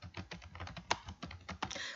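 Someone types a title on a computer keyboard: a quick run of close, crisp key clicks in uneven rhythm, with no speech.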